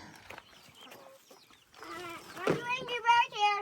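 Backyard chickens and a rooster in a West Texas coop cluck and squawk close by, quiet at first then building into loud, busy calling in the second half.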